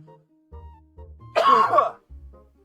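A streamer's harsh, rasping cough bursts out loud and close for under a second, framed by quiet low hum and faint background tones.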